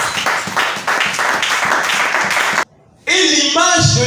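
A church congregation claps and applauds together during a French sermon, dense and steady for under three seconds, then briefly stops before a preacher's voice comes in.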